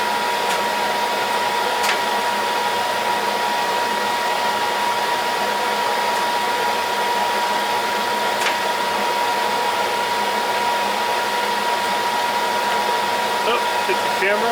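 A lathe cuts a 20 TPI thread with a threading tool, giving off a loud, constant whine and hum with a steady tone, plus a couple of faint clicks.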